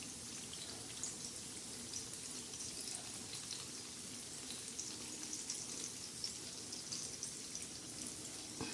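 Green chillies coated in gram flour batter fry in hot oil, giving a steady close-up sizzle with fine crackling spatter that stays even and continuous throughout.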